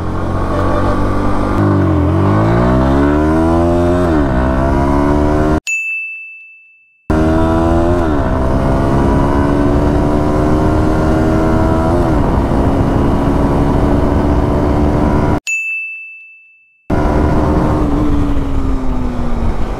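A Pulsar NS 160 motorcycle accelerates hard in a 0-100 run, its engine rising steadily in pitch through the gears, loud and close, with two brief cut-offs between runs and a high ding at each break.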